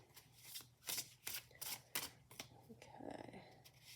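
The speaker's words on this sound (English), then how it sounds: "I don't know why I'm still shuffling without these in there." Tarot cards are shuffled by hand close up, a series of soft riffling slaps and flutters in quick uneven bursts at a low level, with no talking.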